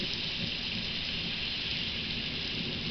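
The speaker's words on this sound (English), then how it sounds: "huge thunderstorm" A huge early-morning thunderstorm with lightning and wind: heavy rain hisses loudly and steadily under a low rumble of thunder, with no voices.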